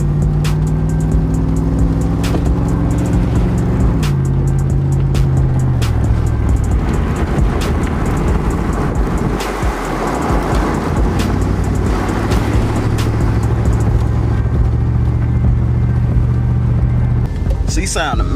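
A 1996 Camaro Z28 with its V8 engine is driven on a test run after repairs, a loud low rumble shifting through gears and rising and falling in pitch while people talk over it in the car.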